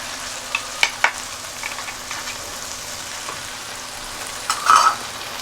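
Cumin, turmeric and chili powder fry in a pan while being stirred. A soft continuous sizzle runs under a few sharp spoon scrapes and clinks, faint and close, with no voices.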